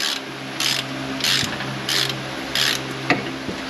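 A bolt on a 2016 Buick Lacrosse rear wheel bearing press tool is tightened in four even ratcheting strokes, each a close rasping grind with brief pauses between, ending with a sharp metallic click.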